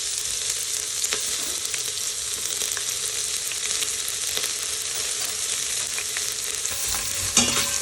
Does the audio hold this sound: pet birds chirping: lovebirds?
no